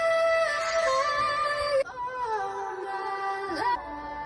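Processed vocal sample from a dance track breakdown, loud and sustained with a bright, harmonically rich tone, shifting pitch midway and bending down briefly before cutting off near the end.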